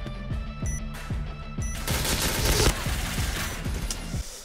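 Repeated shotgun blasts in a first-person shooter game, a fast series of loud booming shots that keep coming, heard alone with no talking.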